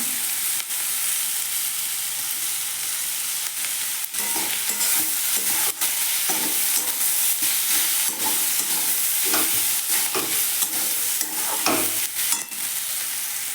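Boiled potato pieces frying and being stirred with cumin and coriander powder in a pan, a steady close sizzle with repeated scraping strokes of a spoon across the pan.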